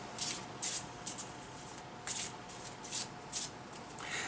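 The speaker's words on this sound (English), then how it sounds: "I'm going to give it a few more shuffles and another cut." A deck of cards is shuffled in quick riffling bursts, about eight short rustles in a loose rhythm, soft and close against a steady low hiss.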